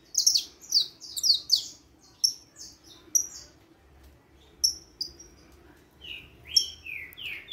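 A young saffron finch, about five to six months old and kept in a cage, sings bright, high chirping phrases in short bursts separated by pauses, close and clear over a quiet low background.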